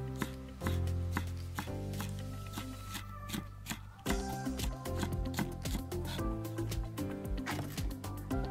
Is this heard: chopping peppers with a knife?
yes